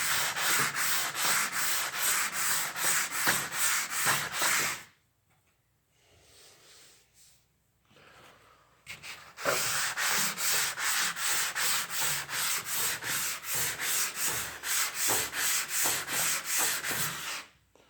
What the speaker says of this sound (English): That's all the sanding you need, just boom.